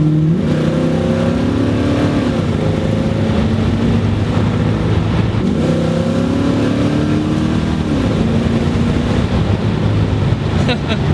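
A Ford Mustang Fox Body cruising on the road, its engine a steady low drone with gentle rising and falling revs and constant road and wind rush.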